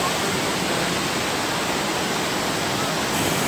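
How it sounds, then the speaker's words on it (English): A waterfall roars nearby, a constant, dense rush of falling water filling the air without pause. "we in front of the waterfall"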